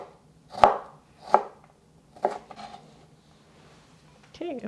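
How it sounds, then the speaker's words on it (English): A knife chops through half an English cucumber on a cutting board, cutting julienne matchsticks in three or four sharp, separate board knocks with a short pause between them, close up, and a brief voice at the end. "I'm using half of an English cucumber, and we're going to cut this into matchsticks"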